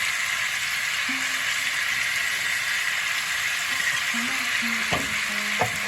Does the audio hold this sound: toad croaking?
no